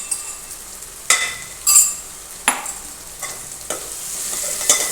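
Ginger, chili and garlic paste fries in oil with onion and potato under a soft, low sizzle, broken by about half a dozen sharp spoon scrapes and stirs against the pan.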